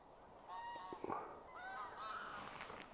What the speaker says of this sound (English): I think they're Canadian geese.